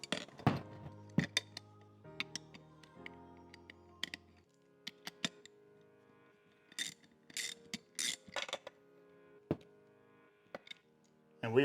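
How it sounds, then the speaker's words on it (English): Screwdriver and socket tightening a homebrew pump mount, with sparse metallic clicks, ratcheting ticks and small clinks coming in irregular bursts, close and quiet, no voices. "then we go ahead and tighten these things down using our screwdriver and our socket"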